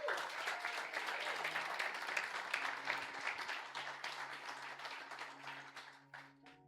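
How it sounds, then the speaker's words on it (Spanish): Congregation applauding inside a church during a worship service, a dense, sustained wash of clapping from many hands that fades gradually toward the end. "¿Podemos aplaudirle a Dios?"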